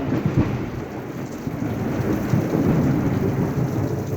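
Thunder rumbles low and heavy through steady rain pattering on surfaces, with a few sharper cracks near the start.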